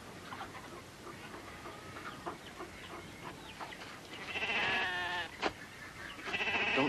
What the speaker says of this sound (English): Now, these are sheep, boy. Nothing but dumb sheep.